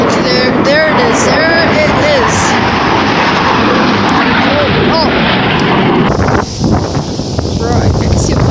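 Blue Angels jet aircraft at an air show give a steady, loud roar, mixed with heavy wind buffeting and excited voices talking over it throughout.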